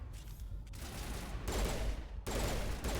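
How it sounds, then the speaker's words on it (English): Burst-fire pistol shots in the video game Mass Effect, two loud clusters of rapid gunfire about a second apart over a low background rumble, no talking. "A burst fire weapon."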